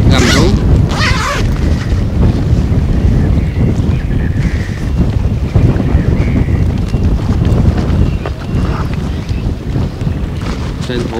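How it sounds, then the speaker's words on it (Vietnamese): The 750-horsepower Komatsu diesel engine of a newly launched purse-seine fishing boat in Phu Yen roars steadily, a loud continuous low rumble mixed with heavy wind buffeting across the whole stretch. "Trong khi chờ động cơ Komatsu 750 mã lực gầm rú."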